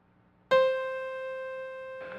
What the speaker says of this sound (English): And the C 1 octave above middle C, called the tenor C